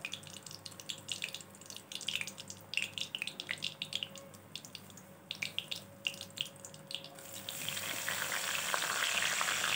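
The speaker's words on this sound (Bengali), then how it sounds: "পরিমাণ মতো তেল দিয়ে ওর মধ্যে দিয়ে দেবো শুকনো লঙ্কা, গোটা শুকনো লঙ্কা আর গোটা জিরে।" Steady crackling sizzle of whole dry chillies and cumin seeds frying in hot oil, with bursts of spattering, growing louder and denser toward the end.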